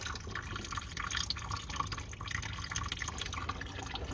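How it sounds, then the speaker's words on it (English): Coolant drains and drips from a Ford Mondeo Mk4 1.8 TDCi engine during a coolant change, giving a continuous wet trickle and splatter with scattered drips over a broad, steady background hiss. "I'm just going to leave it for 10 minutes and let it drain."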